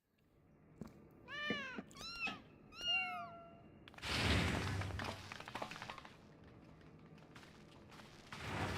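A cat meows three times in quick succession, close and clear, with rising and falling calls, followed by a burst of louder rustling, thumping noise during a video game livestream.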